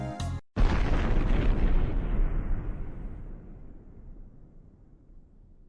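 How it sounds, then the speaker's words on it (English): A huge explosion in the video game Steins;Gate: Linear Bounded Phenogram hits as one loud, sudden boom after a brief cut, then rumbles and fades out slowly over several seconds. "Is engulfed by the enormous sounds of an explosion and the waves of heat that come with it."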